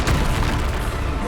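A Bombarda spell explosion in the video game Hogwarts Legacy: a dense, loud, rumbling blast with roaring noise that fills the whole moment without a break.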